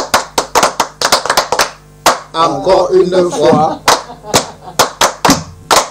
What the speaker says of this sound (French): je voudrais qu'on applaudisse comme à l'école primaire